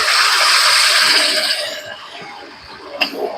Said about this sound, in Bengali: তেল ছেড়ে দিয়েছে, এবার আমি দিয়ে দেবো জল।